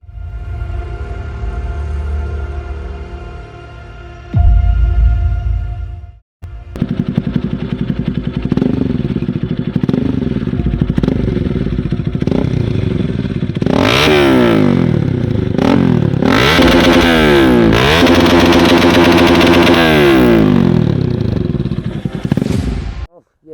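A Pulsar NS 200 motorcycle with a modified, loud Akrapovic exhaust cranks and fires up, then settles into a close, lumpy idle, with sharp blips of the throttle and rattly revs later on.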